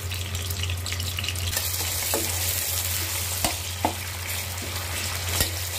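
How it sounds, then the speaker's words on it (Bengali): Chopped onions fry in hot oil in a pan with whole spices: cardamom, cinnamon, cloves and bay leaves. A loud, steady sizzle runs throughout, broken by a few sharp clicks of stirring. "পেঁয়াজটাকে আমি একটু বাদামি করে ভেজে নিব।"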